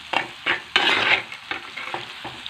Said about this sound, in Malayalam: നമ്മൾ മക്രോണി ഇതിലേക്ക് ഇട്ട് കൊടുക്കുക എന്നിട്ട് ഇത് നല്ലോണം ഇതിൽ യോജിപ്പിക്കാം